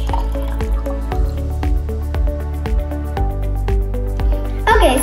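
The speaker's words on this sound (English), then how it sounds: "So now, Apu, we need to use this funnel and pour in the water." Water pours through a funnel into a container for a kids' oil and water density experiment, a steady close trickle with bubbling, gurgling drips throughout and a brief louder splash near the end.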